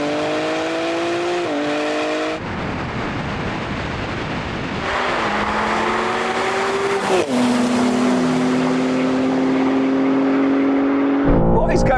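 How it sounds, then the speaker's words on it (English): BMW M cars, among them the M2, M3, M4, M5, M8, X3 M, X5 M and XM, drag racing: engines rev loudly and climb through gears with wheels spinning, with brief shifts and a rising, sustained roar close by. "Oh my God, this just spins wheels."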